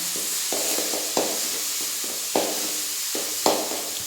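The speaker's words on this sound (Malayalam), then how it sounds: "എണ്ണ ചൂടായിട്ട് വരുമ്പോൾ നമുക്ക് അതിലേക്ക് ഇഞ്ചി വെളുത്തുള്ളിയും ചതച്ച് വെച്ചത് ചേർക്കാം അത് നന്നായിട്ട് ഇളക്കിയിട്ട്" Crushed ginger and garlic frying in hot oil for a Kerala chicken roast, a steady close sizzle broken by several sharp scraping knocks of a spoon stirring against the pan.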